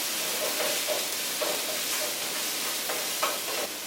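Onions frying in a pan for keftedes, with a steady sizzling hiss and a few soft scrapes of stirring. The sound is continuous and close.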